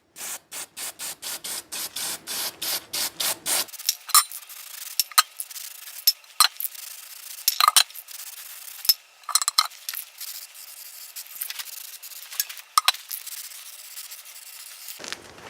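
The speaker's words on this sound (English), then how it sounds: "what I'm going to do is just quick spritz on the bottom and then back to the top for a little bit heavier" Spray coating spritzed onto a surface on a slammed semi project, first a fast run of short even bursts, then scattered separate longer sprays with quiet gaps between.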